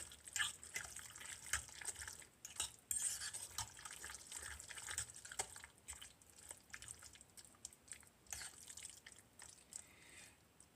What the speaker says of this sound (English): So I'm going to go get that while the noodles are boiling.